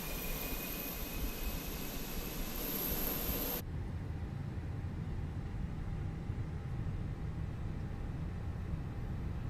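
A jet engine on aircraft 225, an Airbus A320 in a flight simulator, gives a steady, fairly faint roar. Partway through, a high whine cuts off and a lower continuous rumble carries on.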